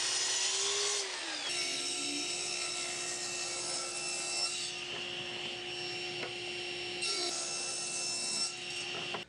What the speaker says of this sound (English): We're going to start here at the miter saw and then rip them to width.